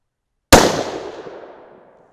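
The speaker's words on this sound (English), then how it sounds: "one last warm-up shot" A single loud 6 PPC rifle shot, fired with 68-grain Bart's Ultra bullets over N133 powder, cracks sharply after a moment of silence and then rolls away in a decaying echo lasting about a second and a half.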